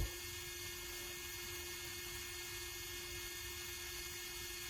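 A Fanttik F2 Master cordless rotary tool running at its highest speed setting: a steady, even high-pitched electric whine with a constant tone, close by and unbroken, with no talking.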